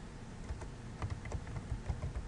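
Rapid clicking of computer keyboard keys as a name is typed, a quick irregular patter of soft taps close by with no speech.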